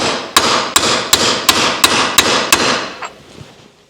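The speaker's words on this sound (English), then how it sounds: "That shaft is tight in there, so I'm going to drive it out. Drive it out with a brass drift." Eight sharp, evenly spaced hammer blows on a brass drift driving a tight shaft out of an engine priming tool, loud and close, the last tap softer before the ringing fades into quiet.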